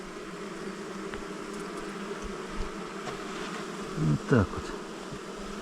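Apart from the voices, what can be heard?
honey bees buzzing at a hive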